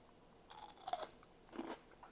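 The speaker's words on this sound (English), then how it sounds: "pull it out so we can look at it and crunch into it" A crisp sous vide dill pickle is bitten into, giving a couple of faint, short crunches about half a second apart against a quiet room, with no talking.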